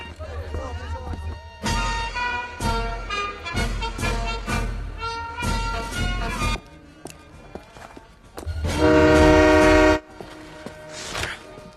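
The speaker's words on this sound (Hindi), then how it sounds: "गोल्ड ट्रेन निकल चुकी है।" A gold-carrying train pulls out in a dramatic action-movie scene, with a loud sustained horn blast near the end over tonal score, scattered footsteps and voices.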